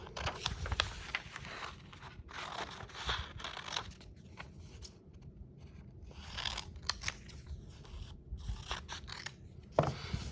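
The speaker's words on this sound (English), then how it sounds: "Then we're going to cut out, there's 3 different titles, so we're going to cut those separately." Paper being cut with scissors, a steady run of close, soft snipping and rustling strokes with brief pauses between cuts, and no talk over it.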